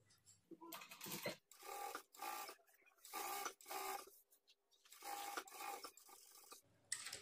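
A sewing machine stitches a blouse lining in short, separate runs of whirring, rattling needle action broken by quiet pauses, heard close but at low volume, with no speech.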